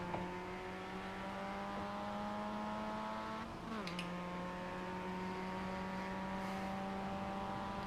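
A Mazda MX-5 race car in a racing video game on the Laguna Seca circuit holds a steady, droning engine note, briefly dipping at a gear change before climbing again at a constant moderate level.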